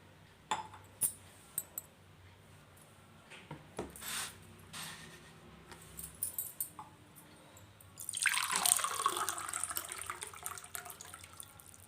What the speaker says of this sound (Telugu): దీన్ని శుభ్రంగా 2 సార్లు కడిగి తీసుకొస్తాను